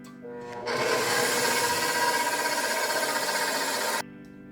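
A stand mixer whips heavy cream toward firm peaks, running as a steady, dense whir that starts abruptly, holds an even level for about three seconds, then cuts off. No voices are heard.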